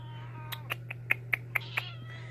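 A house cat meows repeatedly indoors, about seven short, close calls in an uneven rhythm over a steady low hum from a running furnace.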